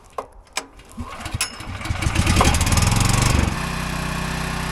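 Champion dual fuel generator being pull-started: a few sharp recoil pulls, then the engine catches and settles into a loud, steady running drone.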